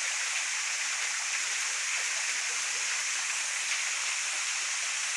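A waterfall of pure, clear water pours steadily under a tropical forest canopy and feeds a small reservoir. Its rushing hiss is continuous and even throughout, with no voices.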